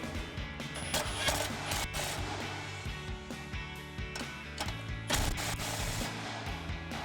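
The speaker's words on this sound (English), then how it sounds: "we'll grab our 13mm socket and extension on our impact and tighten these down" An impact wrench with a 13mm socket and extension tightens the step bar bolts on a Jeep Wrangler JK chassis, firing loud repeated hammering rattles in close, uneven bursts.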